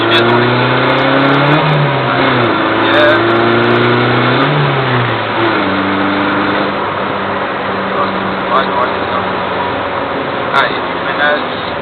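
A car engine hums and rises and falls in pitch as it slows for braking and turning during a driving lesson, steady and close, with voices talking over it.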